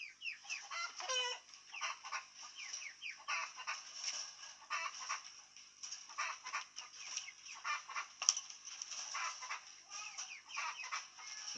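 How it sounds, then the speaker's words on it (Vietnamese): A pair of red-cheeked pheasants make repeated soft clucks and short chattering calls, close and fairly quiet over a silent background, with one sharper click partway through. "Đây nhá, gà lôi nhá, má đỏ nhá."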